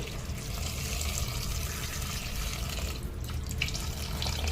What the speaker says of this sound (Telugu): ఇలా కలిపేసుకున్న తర్వాత కొన్ని వాటర్ పోసుకుందాం